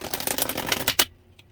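A deck of tarot-style cards being shuffled in rapid, riffling bursts for about a second, close and fairly loud, then stopping into near silence with one faint tap.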